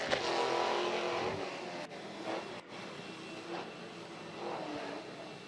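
Ford Mustang drift car on track with its driver clutch kicking to wring out worn rear tires, a loud sustained engine roar with surging revs and brief dips, close and continuous.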